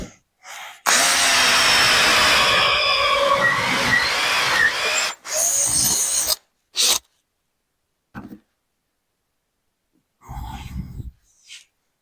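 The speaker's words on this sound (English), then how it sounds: "I can just go and drill all 3." A power drill drilling holes in a cabinet whirs loudly for several seconds, then a couple of shorter bursts follow with brief pauses between them.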